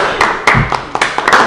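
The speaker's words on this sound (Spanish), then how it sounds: "era en este momento el aplauso." Short scattered claps from a small audience in a classroom, a few sharp hand slaps spread over a second and a half, loud and close, with a voice speaking underneath.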